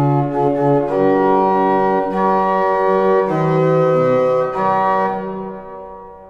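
A pipe organ plays sustained chords in long, heavy tones, the right-hand chords doubled by a prestant stop, each chord swelling and holding before the sound fades near the end, with no voices.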